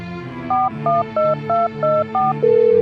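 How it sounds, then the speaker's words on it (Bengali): A telephone dials a call: six short two-tone keypad beeps in an even rhythm, each about a third of a second, followed by a longer steady tone, all clear and close with no talk. "ওর ভাইকে ফোন দেন তো"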